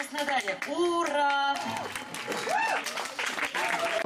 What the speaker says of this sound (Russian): Под ваши громкие бурные аплодисменты.